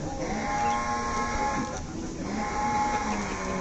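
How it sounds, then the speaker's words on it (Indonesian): A livestock animal calls with a drawn-out bleating moo, droning steadily over a crowd's murmur at an outdoor sacrificial-meat distribution event, with faint voices underneath. "Ada interupsi dari sapi."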